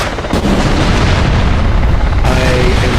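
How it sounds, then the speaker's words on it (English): Rockets from a Ka-50 helicopter exploding in DCS World, heavy booming impacts blending into a continuous loud roar of detonations over the aircraft's drone for about three seconds. "Some horrible, horrible rocket shots."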